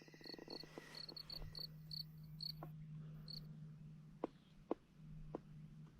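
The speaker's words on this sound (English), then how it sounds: "we have crickets and stuff now" Crickets chirp in a forest along a trail, a quiet steady high trill with a low insect drone beneath and a few faint clicks and knocks, no speech.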